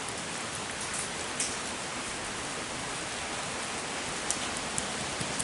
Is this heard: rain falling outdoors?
yes